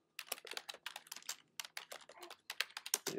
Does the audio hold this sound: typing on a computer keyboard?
yes